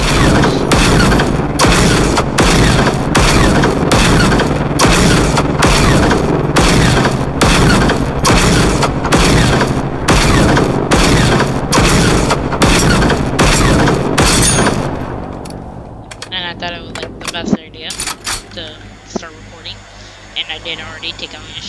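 Repeated heavy booming blasts in the Generation Zero video game during a fight against the Reaper machine, a long loud rhythmic series of explosions that stops abruptly and leaves scattered clanks and rumbles.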